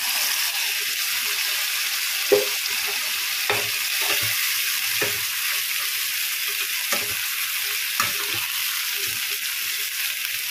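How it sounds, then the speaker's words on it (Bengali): Chicken for a dopiaza frying in a pan with its marinade gravy, a steady bright sizzle and hiss throughout, broken by occasional soft scrapes and clinks of a stirring spoon. "মাংস মাখানো গ্রেভিটাও দিয়ে দিলাম"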